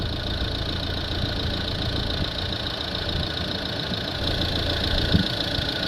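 A Mercedes A180 diesel engine idles on its own with a steady, even drone and one small knock near the end.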